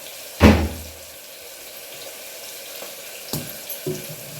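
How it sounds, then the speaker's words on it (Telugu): Water is poured over cut ridge gourd pieces to wash them in a home kitchen, a brief splash up close followed by a few faint trickles and light knocks. "ఇక తీగంకాయలకు కానీ కొంచెం నీళ్ళు అయితే వేస్తాను కడిగేకి"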